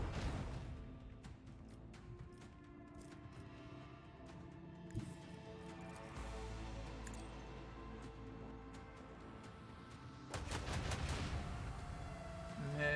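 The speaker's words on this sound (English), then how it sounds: "Macro cannons, open fire." Rapid, faint macro cannon fire and booming volleys from a spaceship in the game Rogue Trader, with layered electronic effects and a swell of heavier blasts near the end.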